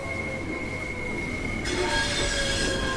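A Class 465/9 electric train arriving in Train Sim World 2 on the Southeastern high speed line, a loud continuous rail roar with squealing wheels and a sustained high tone, intensifying toward the end with no speech.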